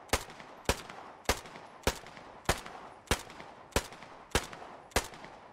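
Ten sharp submachine gun shots in the video game Post Scriptum fire one after another at an even, unhurried pace, each a crisp crack with a short tail and no talking.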